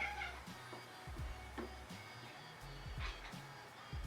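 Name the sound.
cat meowing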